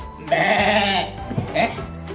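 A storyteller's voice imitating a horse but coming out as a goat-like bleat, a loud, close, wavering call followed by a second shorter bleat.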